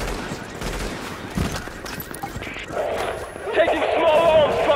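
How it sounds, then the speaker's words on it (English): Small arms gunfire in The Division, scattered cracks and short bursts at moderate distance, mixed with movement noise and rising background commotion, with voices talking over it. "small arms fire! Small arms fire!"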